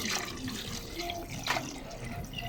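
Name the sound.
pouring water into pot for pinapaitan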